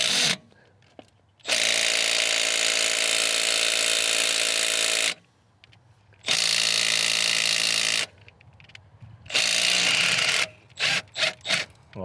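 A Milwaukee cordless right-angle impact wrench hammers in long loud bursts loosening an engine bolt, then stops, then fires again in several quick short bursts at the end, close by.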